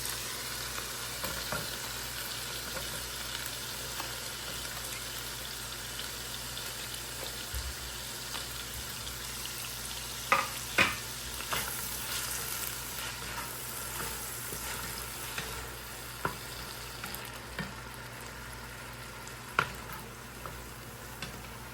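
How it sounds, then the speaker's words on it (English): Frozen tomatoes cook down in a pot with a low, continuous sizzle and bubble, broken by occasional soft clinks and taps of a utensil, quiet and without any voices. "I usually use frozen tomatoes, so I want it to cook down a bit before I add the fish."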